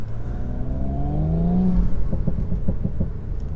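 A Stage 1 tuned Audi S4 engine revs hard and climbs in pitch, then pops and crackles from the exhaust in quick bursts, loud and close.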